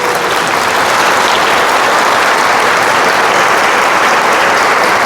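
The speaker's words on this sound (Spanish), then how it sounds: "Aplauso para estos hermanos." Congregation applauding a couple renewing their vows after 27 years at a Mass in Rome, a loud, dense, continuous clapping that fills the church evenly throughout with no break.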